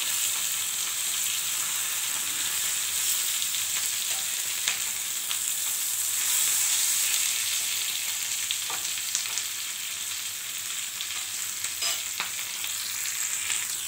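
Bhetki fish paturi frying in a pan after being flipped, with a continuous bright sizzle of hot oil and a few light scraping touches, steady and close throughout.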